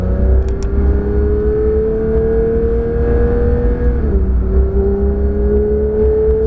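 A Porsche 992 GT sports car engine drones steadily and loud, pitch rising gently as it accelerates, with a brief dip near the end before climbing again.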